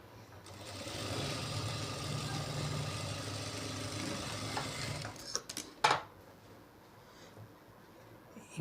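A sewing machine runs steadily for about five seconds while stitching the edge of a lining, then stops and is followed by a few clicks and handling knocks.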